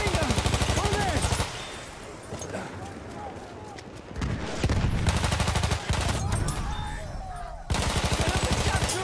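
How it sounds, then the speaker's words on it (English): Machine gun fire in a video game, rapid bursts rattling through long stretches with brief pauses between volleys, loud and close, while other voices shout in the background. "Machine gun! Over there!"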